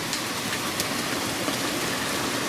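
A huge September hailstorm in Ottawa pours down as a dense, steady hiss of countless pellets striking the ground and surfaces, loud and unbroken, with a few sharper individual hits.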